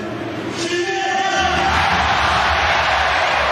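A large football stadium crowd booing Messi, a loud sustained roar of jeers and whistles rising and holding throughout.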